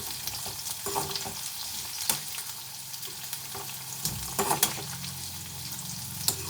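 Ivy gourd (dondakaya) fries in a pan with a steady close sizzle, broken by occasional scraping stirs and sharper clicks of a utensil, and no voices.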